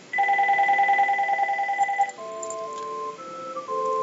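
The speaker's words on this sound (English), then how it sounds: "It's just my phone, my house phone ringing." A landline house phone rings loudly nearby with a warbling electronic trill, then shifts into a stepped series of melodic tones, with no one speaking.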